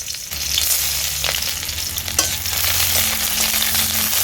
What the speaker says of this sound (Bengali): পেঁয়াজ কুচিটাকে আমি হালকা নেড়ে চেড়ে ভেজে নেব।